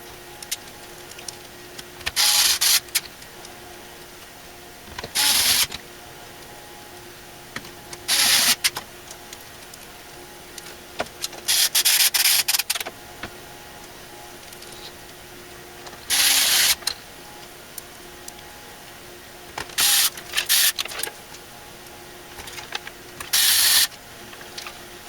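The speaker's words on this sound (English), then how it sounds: "let's go ahead and bolt this motherboard into place." A motherboard is bolted into a computer case with a powered screwdriver, giving short whirring bursts of about a second each, repeated several times with quiet pauses between.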